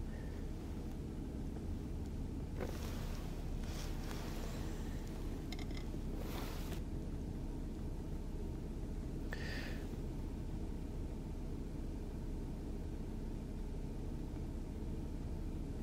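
Car engine idling while cold, a faint steady low rumble throughout with a few brief louder bursts of noise over it.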